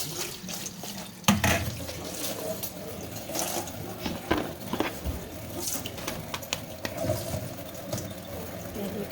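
Mushrooms are washed under a running kitchen tap, with splashing water, handling knocks and clatter at irregular intervals.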